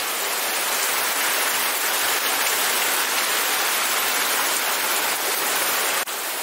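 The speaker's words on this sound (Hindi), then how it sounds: "बारिश में बड़ा दिक्कत होता है दोस्तों।" Heavy rain falls in a continuous, dense hiss of drops, steady and loud from start to finish with no voices.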